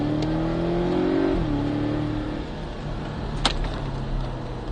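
Porsche 718 Cayman S engine accelerating around the Trappes race circuit during a driving course, a steady close in-cabin drone whose pitch climbs, dips at a gear change and settles, with a brief knock near the end.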